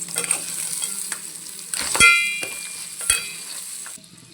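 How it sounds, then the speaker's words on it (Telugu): Crab curry is stirred in a hot pan, with a constant sizzling hiss and several sharp spoon scrapes and clacks against the metal, close and moderately loud, with no talking. "మొత్తం ట్రాన్స్ఫర్ చేసి బాగా కలపాలి"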